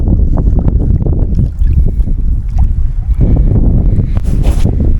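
Strong wind at sea just before rain, heard from a fishing boat as a loud, steady roar buffeting the microphone, with no talk.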